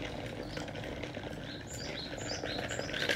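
Birds chirp and tweet in short, faint calls near a rice cake factory in Japan, scattered high notes over a low outdoor background hum.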